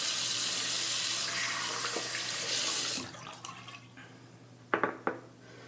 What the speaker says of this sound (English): Go ahead and rinse off